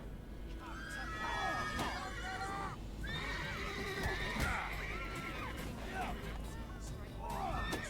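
In The Witcher 3, horses whinny and neigh repeatedly over clopping hooves and a busy crowd murmur, with voices talking throughout the scene.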